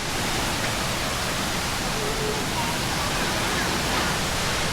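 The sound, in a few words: Ton Sai Waterfall in Phuket, water flowing over rocks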